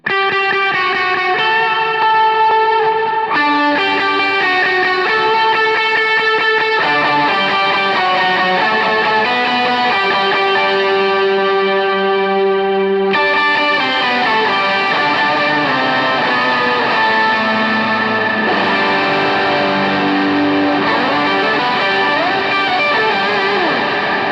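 A distorted electric guitar run through an octave pedal plays a sustained, layered lead line with a thick doubled tone, loud and continuous, with no voices.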